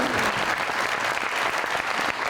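Studio audience applauding on a Pakistani TV talk show, a steady dense wash of clapping with no break throughout.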